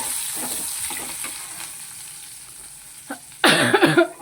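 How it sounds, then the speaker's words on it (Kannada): Spices frying as a tempering for chitranna rice in a hot pan, crackling faintly at first and then erupting into a loud, bright sizzle near the end as ingredients hit the oil. "ಇದೆಲ್ಲ ಚೆನ್ನಾಗಿ ಫ್ರೈ ಆಯಿತು"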